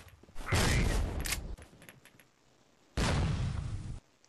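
Two short bursts of gunfire from the mobile shooter Forward Assault, each lasting about a second and separated by a quiet gap, fairly close and loud with no voice over them.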